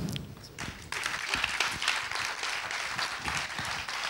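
Applause at an awards gala for young art talent laureates in Brasov, a steady wash of clapping that swells after a brief quieter opening and carries on evenly, moderately loud and close.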